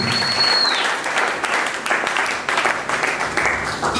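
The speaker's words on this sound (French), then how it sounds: "Podemos aplaudir pela palavra de Deus." A church congregation applauds loudly for the word of God, a dense roar of clapping that holds steady for several seconds. A voice rises faintly underneath.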